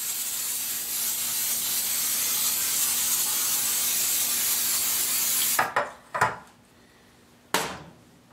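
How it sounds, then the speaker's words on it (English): Cooking spray hisses in one long continuous burst onto a muffin pan for about five seconds, followed by a few short knocks as the pan is set down and handled. "So we need to spray our pan"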